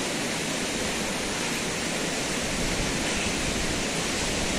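Steady, loud broadband wash of sea waves on a sandy beach in early morning, a continuous surf roar with no distinct individual breakers and no talking.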